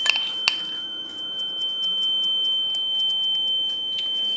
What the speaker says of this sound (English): my smoke alarm went off even if the door closed